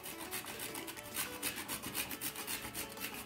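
Whole nutmeg rubbed against a grater for Marathi-style wheat kheer, a close, steady run of quick rasping strokes in an even back-and-forth rhythm, with no talking.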